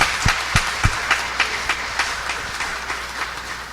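A church congregation claps together in a steady, rhythmic beat, with sharp slaps that gradually soften and blend into a broad wash of sound.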